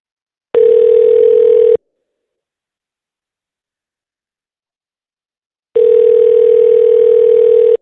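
A computer plays telephone ringback for an outgoing call: two loud, steady electronic tones, each lasting just over a second, separated by about four seconds of silence, heard clean with no talk.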